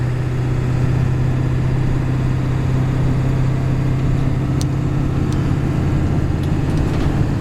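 Pickup truck engine pulling onto a freeway, a loud steady low drone with a strong constant hum and road rumble, heard from inside the cab with no talk.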